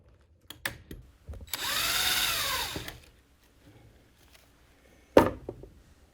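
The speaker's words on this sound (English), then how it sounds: "Use the center self-centering drill bit, and now we've got almost all of our pilot holes drilled." A power drill with a self-centering bit bores a pilot hole in wood, giving one sustained whirring burst of about a second and a half, bracketed by a few sharp clicks and knocks from handling.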